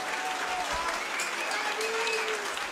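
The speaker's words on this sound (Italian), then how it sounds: "Un grande applauso per entrambi ancora una volta." A crowd at an MMA welterweight tournament final applauds both fighters after the bout, with a steady roar of clapping and cheering and occasional whistles over the arena hubbub.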